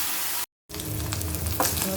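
Chicken pieces seasoned with soy sauce and salt frying in a pan, a steady close sizzle with crackling bursts, briefly cut to silence partway through.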